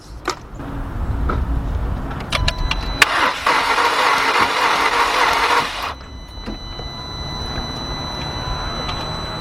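A Volkswagen engine cranks over on the key for a few seconds, a loud mechanical whir and rattle close by in a workshop, stopping abruptly, then leaving faint background hum.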